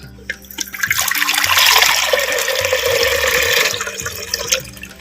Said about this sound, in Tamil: பருப்பு வேக வைக்கிறதுக்கு மண் சட்டி வச்சுக்கிறேன் தேவையான தண்ணி ஒரு லிட்டரு சேர்த்துக்கிறேன்